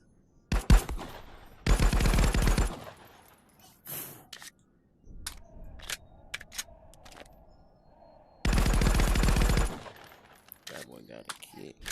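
Glock 22 .40 pistol fire in a VR game, with sharp single shots and two longer dense bursts of rapid fire, loud and close, separated by metallic clicks and clattering handling noises.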